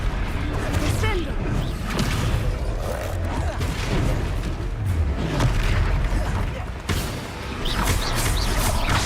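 A Descendo spell slams down in Hogwarts Legacy combat, a heavy booming impact with whooshing and crashing debris amid dense battle noise, with brief speech mixed in.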